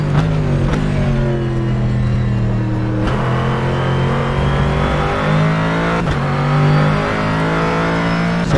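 Corvette Callaway race car at Sebring International Raceway in rFactor 2, its engine loud and close, droning and rising through the revs with brief shift breaks and no talk.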